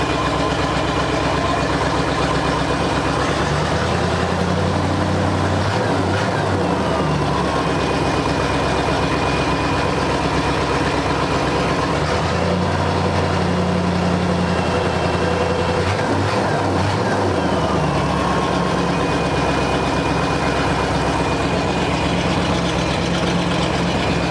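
A supercharged 1963 Studebaker Avanti R2 engine with no exhaust and a vacuum leak idles steadily and loudly throughout, its low rumble occasionally shifting in pitch as the revs dip and rise.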